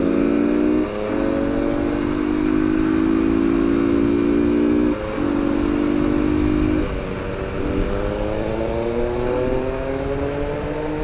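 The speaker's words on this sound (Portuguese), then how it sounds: "Uma MT-09, a motoca aqui." Yamaha MT-09 motorcycle riding through traffic, a steady close engine drone with sustained harmonic tones that drop briefly and shift pitch as the bike varies speed, continuous over about eleven seconds with no talk.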